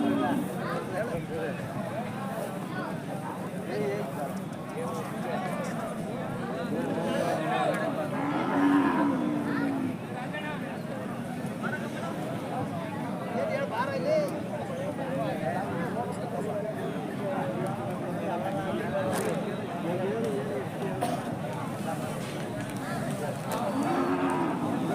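Cattle, including a cow and her calf, moo at a busy rural cattle market among farmers, several low drawn-out calls rising over constant crowd chatter and nearby talk.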